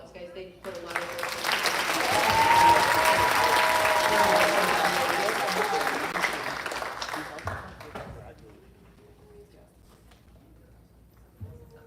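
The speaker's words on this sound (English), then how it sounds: "They all deserve a round of applause" Applause from the audience at a nursing college graduation ceremony in Sacramento swells to a broad, sustained ovation, then gradually thins and fades into quiet room murmur, with a few whistles or cheers mixed in near the peak.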